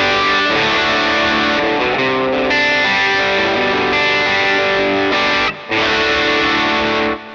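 An electric guitar overdriven through a Tube Screamer pedal with the tone knob turned fully bright rings out in loud, sustained distorted chords, with one brief break before the playing resumes.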